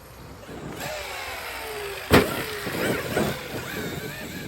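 Traxxas X-Maxx 8S RC monster truck doing slap wheelies outdoors, an electric whine rising and falling with a sharp thump as it lands, followed by rolling clatter; moderately loud at mid distance.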